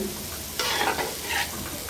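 Milk-powder gulab jamun fry in hot oil, giving a close, steady sizzle that swells into a brief louder bubbling burst as the balls are moved, with no speech.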